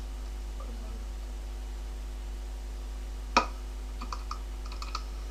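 Typing a search on an iPod: a single clear tap followed by several lighter, scattered taps over a steady electrical hum.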